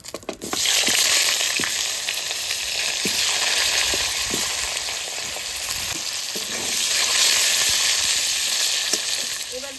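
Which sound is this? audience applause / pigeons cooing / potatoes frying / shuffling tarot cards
potatoes frying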